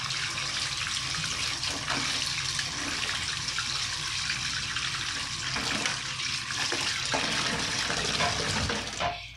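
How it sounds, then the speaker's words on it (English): Water gushes steadily from a tap into a bathtub, a continuous broad rushing that holds even and close for the whole stretch, with a few soft knocks and splashes underneath and no talking. "And now I'm going to fill up the rest of my tub."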